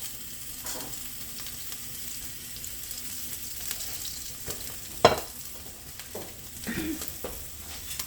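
Food frying in plenty of oil in a home kitchen while tacos are being made, a steady low crackle and sizzle with a few louder pops and stirring clatters.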